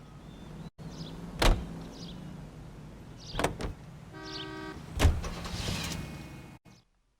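Car in the video game L.A. Noire, with engine and mechanical noise throughout and several sharp thuds and clunks. A brief tonal honk-like sound comes midway, and the sound cuts off abruptly near the end, with no voices.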